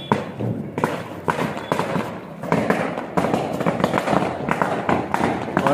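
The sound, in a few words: Diwali chakri ground spinner firework burning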